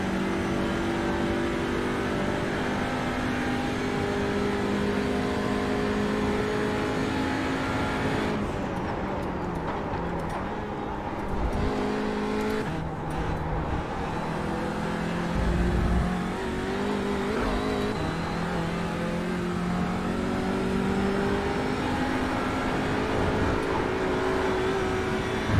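Audi RS3 LMS TCR race car engine in iRacing at Road Atlanta: a loud, constant engine drone that rises through the gears, drops under braking and climbs again, heard without talk.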